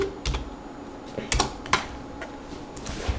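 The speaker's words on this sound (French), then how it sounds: "et là on tape orb, ORB" Short bursts of keystrokes on a computer keyboard, a few sharp taps spaced unevenly over a faint background hum, close and fairly quiet.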